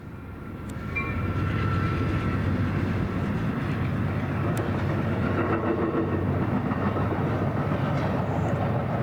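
A train rumbles past the Old Wadsworth crossing in Denver, a loud continuous roar with rhythmic wheel clatter that swells in after the first second and holds steady, close by and with no talk.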